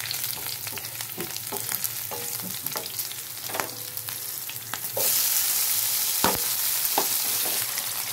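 Green chillies frying in hot oil in a pan for a spinach and fenugreek bhaji, a steady close sizzle with light stirring clicks and a few sharper spatters, louder in the second half.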